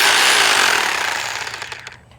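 A rotary hammer drill fitted with a masonry bit hammers loudly and harshly in a rapid, steady stutter, then slows and fades toward the end with no talking.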